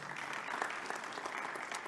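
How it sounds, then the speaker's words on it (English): An audience at a media briefing held by the CAF President claps hands in steady, dense applause with no breaks. It is moderately loud and fills the whole moment. "Please clap hands for Dr."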